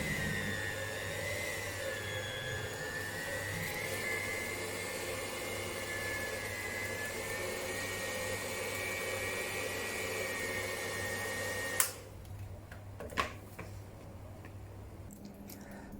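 An electric mixer kneads soft bread dough with butter for a savory ham and cheese loaf, a steady loud whirring drone with a slight pitch wobble that runs alone, then cuts off abruptly near the end, leaving faint clicks.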